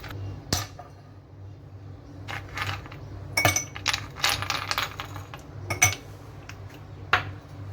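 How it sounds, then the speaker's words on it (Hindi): Ice cubes dropping into a glass make a series of sharp clinks and clatters, some close together and some spaced apart, with a faint mechanical hum underneath. "मैंने एक ग्लास लिया है और इसमें मैं आइस क्यूब्स ऐड करूंगी"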